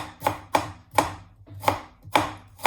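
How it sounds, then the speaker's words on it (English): A knife chops shallots crossways on a board for a slow-cooked beef curry, six sharp, evenly spaced cuts landing about every half second, close and clear with no talk. "When you come to shallots, the best idea would be to do them crossways"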